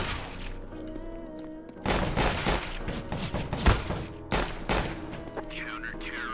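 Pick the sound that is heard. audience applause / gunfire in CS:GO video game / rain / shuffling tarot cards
gunfire in CS:GO video game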